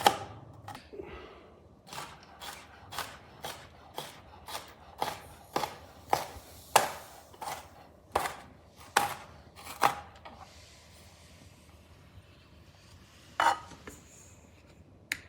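A kitchen knife rough-chops shallots on a board in a steady run of about fourteen crisp, close thwacks, pausing near the end before one last cut, with no one talking.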